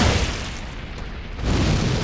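A boss in the Elden Ring DLC sets off an explosion attack, a loud booming blast with a rumbling tail that dips briefly and then swells again into a second heavy burst.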